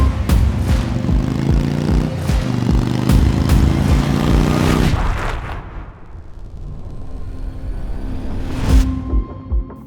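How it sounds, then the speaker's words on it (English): An Indian Chieftain PowerPlus 112 V-twin motorcycle revs loudly up close, with repeated throttle blips over a deep rumble, then the engine drops back to a lower idle before one more rev. "you just twist the throttle and this thing will rev to the moon."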